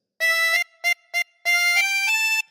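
A harmonica plays a short phrase of Hey Diddle Diddle: a long held note, two quick short notes, then a longer sustained note that shifts pitch. The playing is clear, close and solo.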